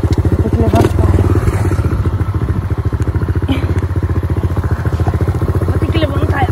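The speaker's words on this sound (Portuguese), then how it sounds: "Meu Deus, vou ter que desligar a moto" A mini motorcycle engine idles and revs steadily up close on a trail along a railway line, with a rapid putter running throughout, mixed with clattering and scraping as the bike is handled, and a voice speaking over it.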